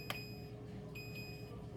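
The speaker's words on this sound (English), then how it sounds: "sorry for the beeping. I don't know what that is." Electronic beeping from a kitchen oven, two high tonal beeps about a second apart sounding faintly in the background over a low steady hum, with no talking.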